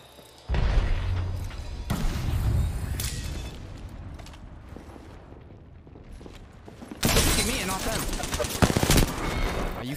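Kraber sniper rifle fire in Titanfall-style shooter combat: a few loud, sharp blasts split by quieter gaps, with a heavy burst near the end over a busy game mix.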